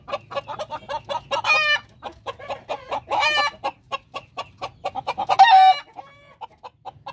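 Hens cluck steadily close by while a rooster lets out a few short crowing calls, loud and clear over a low hum in a backyard coop where the birds are laying eggs again.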